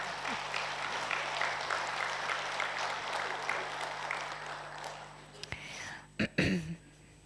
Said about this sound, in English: So I think it's a good way to start by giving them a round of applause